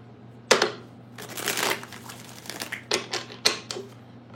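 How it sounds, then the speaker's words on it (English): Tarot cards shuffled by hand in a few quick riffling bursts with short pauses between them, close and fairly loud over a faint steady hum, with no talking. "Let's get 3 shuffles."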